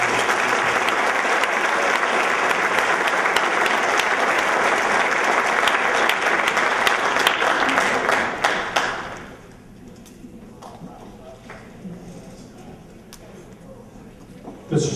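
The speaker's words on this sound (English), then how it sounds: "let's give them a round of applause" Loud, sustained applause from a large crowd fills the room at a spring sports awards event for about nine seconds, then cuts off to quiet murmuring and a few scattered sounds.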